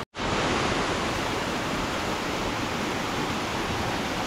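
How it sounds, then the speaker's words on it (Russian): The Nemtsevo waterfall, a loud broad continuous rush of falling water heard close, starting abruptly and staying steady throughout, with no voices. "Покажу вам сейчас его, смотрите. Водопад Немцево."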